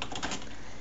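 Quick, faint clicking of keystrokes on a computer keyboard, typed alone with no voice over it.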